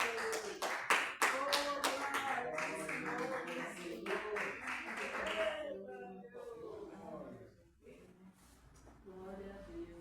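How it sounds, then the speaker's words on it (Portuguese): Church congregation clapping joyfully in rhythm during a consecration service, sharp claps that are loud at first and then fade out, with a voice and singing carrying over them. "Vamos receber, aleluia, com as palmas bem alegres para Jesus, aleluia."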